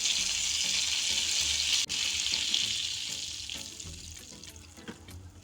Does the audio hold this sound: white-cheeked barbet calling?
no